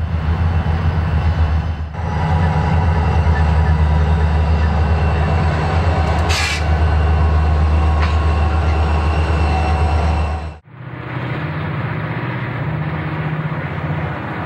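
A freight train on the Baltimore and Ohio mountain grades with older locomotives rolls steadily past, a loud, continuous rumble and rattle of wagons with a brief high squeal midway and a sudden drop before the noise resumes.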